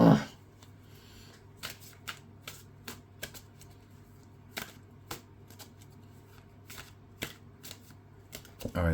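Tarot cards being shuffled by hand make a run of crisp, sharp riffles and snaps at an uneven pace, close and fairly quiet, with no talking.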